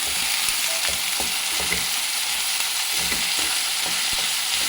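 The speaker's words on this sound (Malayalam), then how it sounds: "വെണ്ടക്കായ ഒന്ന് എണ്ണയിൽ വരിയിച്ചെടുക്കും അധികം എണ്ണയൊന്നുമില്ല" Okra sizzles steadily in a small amount of oil in a pan, a constant close crackling hiss with soft stirring taps underneath.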